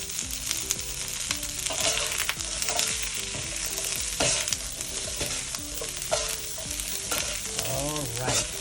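Onions fry and sizzle in oil in a pan as a spoon stirs and scrapes through them, a steady close crackle with irregular clattering strokes and no talking.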